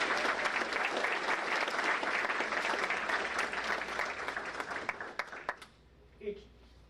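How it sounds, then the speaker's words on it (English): Audience at a school board meeting gives a round of applause, dense steady clapping from a roomful of people that tapers off and ends with a few scattered claps near the end. "One more round of applause."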